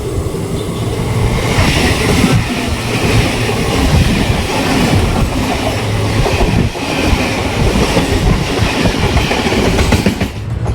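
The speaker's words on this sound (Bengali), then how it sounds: "সুন্দর করে একেবারে একটা ট্রেন চলে আসছে দেখুন।" The Bhagirathi Express train passes close by, loud and continuous, with rumbling wheels and rhythmic clickety-clack over the rails throughout.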